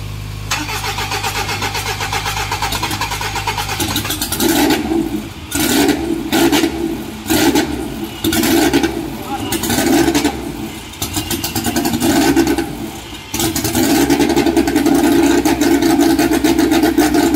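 A stock Honda K24 car engine cranks with a steady starter whir for about four seconds, catches, then revs in repeated loud bursts with brief dips between, ending in sustained high revving.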